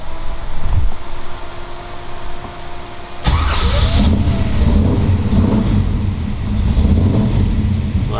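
A healthy 383 stroker V8 with Tri-Power carburetion in a 1935 Ford Deluxe rumble seat roadster cranks and catches around three seconds in, then settles into a loud, steady, lumpy idle with occasional blips.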